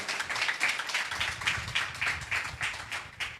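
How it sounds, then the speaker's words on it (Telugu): A church congregation claps hands in steady, rapid unison rhythm, a dense run of regular claps at moderate distance with no talking. "చప్పట్లు కొట్టి యేసయ్యను మహిమపరుస్తాం."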